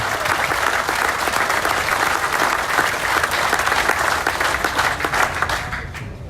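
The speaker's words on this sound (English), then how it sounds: "Ladies and gentlemen, again, a round of applause." Sustained crowd applause fills a drivers meeting at the Knoxville Nationals sprint car championship, steady dense clapping at close range that tapers slightly at the end, with no talk over it.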